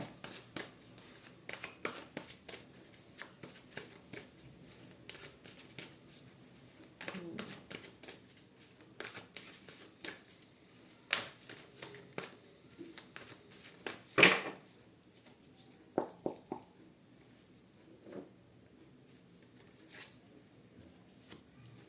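Tarot-style cards are shuffled and drawn close up, giving repeated soft riffling bursts and light flicks at an uneven pace, with talking faintly heard at times beneath the card handling.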